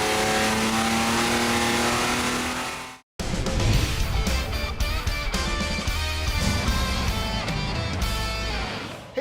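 A Ford 300 4.9L inline-six, built with higher compression, a ported head and a bigger cam, roars loudly at full throttle after a brief silent break, a dense, sustained close-up engine howl that stays strong to the end.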